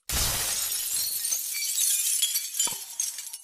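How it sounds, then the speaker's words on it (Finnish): Window glass shatters with a loud crash in a cartoon, bright shards tinkling and clinking for a few seconds afterward as pieces fall. "Robotti nojasi ikkunaan ja lasi särkyi."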